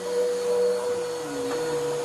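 A vacuum cleaner runs steadily over carpet laden with dry soil in a house, giving a constant whining drone with a high tonal hum, close and continuous with no talk.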